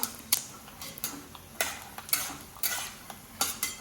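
Peanuts roasting in about three spoonfuls of hot oil for poha, with sharp scraping stirs and clinks of a spoon against the pan over a soft background sizzle, close and fairly quiet, no talking.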